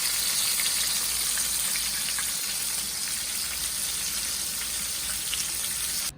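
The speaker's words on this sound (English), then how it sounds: "this is almost fried. Look at that. It's a golden brown. It's gonna be crispy." Pieces of sesame chicken fry in hot oil until golden brown, with a steady dense sizzle and crackle that is fairly loud and close, with no talking.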